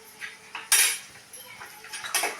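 A metal spoon scrapes and clinks against a cooking pan as tomatoes are stirred into cooked onions, several irregular close scraping strokes with one louder clatter, no talking.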